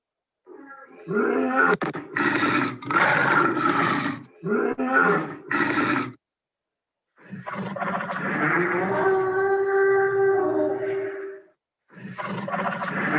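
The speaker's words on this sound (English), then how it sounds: "Let's go to this one, 99 dinosaur sounds." Several deep, growling dinosaur roar sound effects in bursts, separated by short silences, then a long bellowing roar with a tonal moan, loud and close.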